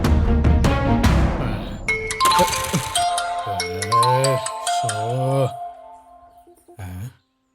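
Phone ringtone chiming in repeated melodic ding-dong bursts, loud and close, over background music in a Tamil TV serial scene, then cutting off abruptly.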